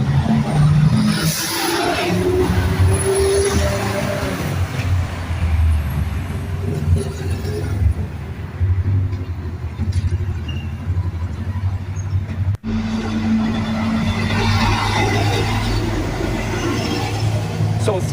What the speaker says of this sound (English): So 3 huge semi-trucks went by, and as I was walking to my car, a 4th one came the other way.